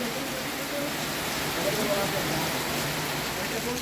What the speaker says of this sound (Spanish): Mirá el aguacero